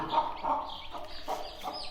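Soft chick peeps and a few short hen clucks from Hint (Indian) chickens and chicks, including a few white non-Hint chicks, come in quick bursts, fairly faint and close, with no other sounds around them.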